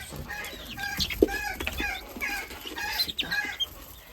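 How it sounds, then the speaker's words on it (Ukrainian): Young chicks about a month old cluck and peep in a farmyard flock, a busy overlapping chatter of small calls at close range with occasional louder squawks. "Це в мене такого курчатка."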